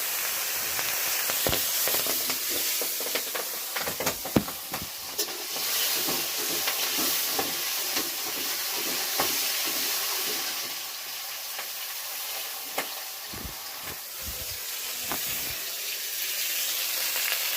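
Vegetables and paneer sizzle steadily in a hot pan as tomato, peas, green chilli and whole cumin go in, a continuous frying hiss broken by scattered clatters and taps of ingredients and utensil, with no talk.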